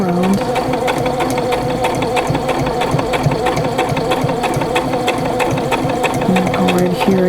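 A sewing machine stitches a fabric glasses case, humming and clattering continuously at a steady pace, loud and up close, with the motor drone underneath.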